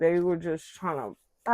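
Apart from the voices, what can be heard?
None of the usual background noises is heard.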